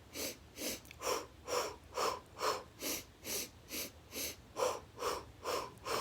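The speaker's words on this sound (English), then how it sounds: "So breathing 4 times." Slow deep breaths repeat in a steady rhythm, about a dozen audible inhales and exhales, close and fairly quiet, each a soft airy rush with no talking during a calming breathing exercise.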